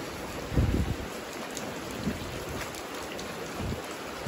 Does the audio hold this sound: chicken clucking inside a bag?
no